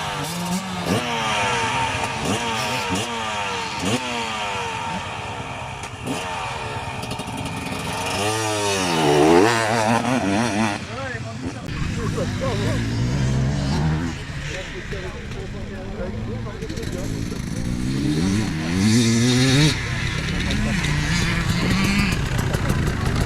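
An enduro motorcycle engine revs repeatedly with rising and falling pitch sweeps, loud and close, with people talking over and between the revs.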